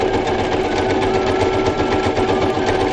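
A sewing machine stitches fabric in a steady, loud, continuous mechanical whir with a fast even rhythm, close up and running without pause.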